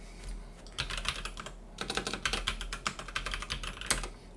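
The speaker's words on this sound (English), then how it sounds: "you do have to type the URL in correctly" Computer keyboard keys clatter in quick irregular bursts while a web address is typed during a NixOS upgrade, close and fairly quiet, pausing briefly before a second steady run of keystrokes.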